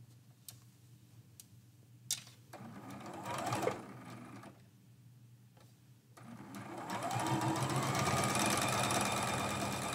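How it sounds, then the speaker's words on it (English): A sewing machine stitches a seam on a medallion quilt, running in several short, close bursts before settling into a longer, louder, steady run of stitching. "So let's go ahead and flip this over, and I will sew this side with you"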